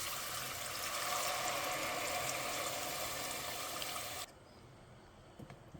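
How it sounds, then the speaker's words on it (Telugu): Tamarind juice pouring into fish curry gravy, a steady liquid splash that runs continuously for about four seconds, then stops abruptly, leaving quiet room tone with a few faint clicks. "దీంట్లోకి ఆల్రెడీ మనం తీసి పెట్టుకున్న చింతపండు రసం వేసేస్తున్నాం"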